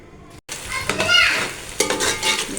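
Oil frying in a cooking pot while making Degi-style mutton rice, a steady close sizzle with scraping and clatter after a brief gap near the start.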